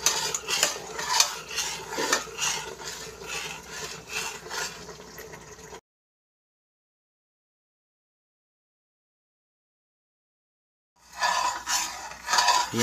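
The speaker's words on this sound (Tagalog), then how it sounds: "Continuous mixing guys hanggang matapos." A utensil scrapes and stirs continuously through thick ube rice cake mixture in a pan over medium heat, a close, rhythmic rubbing and clinking that cuts out for several seconds, then resumes.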